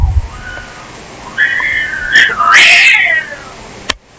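A frightened house cat lets out drawn-out rising yowls and wails at close range, with faint hissing before them and a sharp click near the end.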